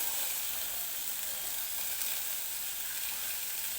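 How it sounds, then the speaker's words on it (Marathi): Corn kernels roasting in a hot kadhai give a steady, loud, continuous sizzle with bright hissing crackle throughout, with no voices. "आणि तर या कढईमध्ये हे जे आपण कणीस घेतलेलं आहे ते मी टाकून घेणार आहे सगळं"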